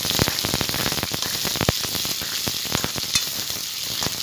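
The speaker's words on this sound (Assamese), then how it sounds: "ডাঙৰ চাইজৰ পিঁয়াজ এটা কাটি ভাজিব ৰঙাকৈ ভাজি ল'ম" Steady, loud sizzling of a large chopped onion frying in a hot pan until browned, with crackles and pops throughout and no voices.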